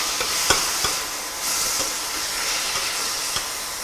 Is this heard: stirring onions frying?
yes